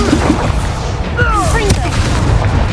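In the Hogwarts Legacy video game, a Confringo fire spell goes off as a booming blast amid dense battle noise, with whooshing effects and a sharp crack near the middle.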